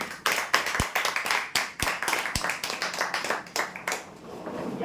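A small crowd at a lucky draw event applauds a winner with scattered, uneven claps that form a close, lively burst lasting several seconds before tapering off.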